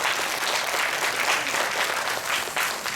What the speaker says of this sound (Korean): 우리 청소년부한테 박수 한번 쳐주세요